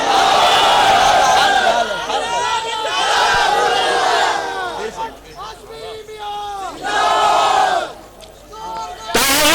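A large crowd at a religious gathering shouts the takbir slogan in loud, rhythmic unison, several massed calls rising and falling in waves, with a leader's voice cueing between them, close and powerful until an abrupt cut at the end.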